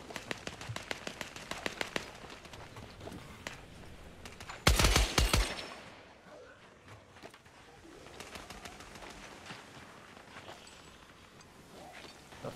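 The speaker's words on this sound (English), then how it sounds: "Oh, gunshots." Gunfire in the video game Scavengers: a rapid burst of loud shots in the middle, with scattered lighter cracks and clicks before and after over a hissy ambient game soundscape.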